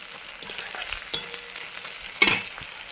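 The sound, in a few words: onions frying in a pan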